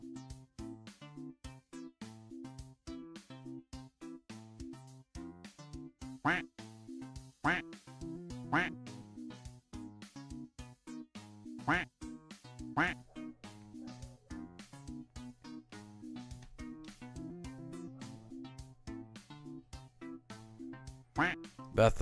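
A cartoonish duck quack sound effect repeats rapidly over and over for about twenty seconds, loud nasal quacks in a steady rhythm with occasional sharper accents.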